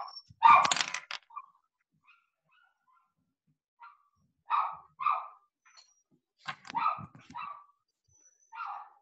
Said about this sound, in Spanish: Veo que mi perrito está ladrando,